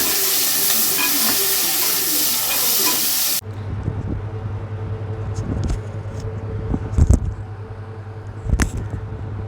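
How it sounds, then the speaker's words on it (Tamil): Onions and green chillies sizzle loudly in hot oil for chicken biryani, a bright frying hiss that suddenly drops to a softer crackle, with a ladle scraping and knocking the pan several times as the mixture is stirred. "கரண்டி வச்சு நல்லா வந்து கிளறி விட்டுக்கலாம்."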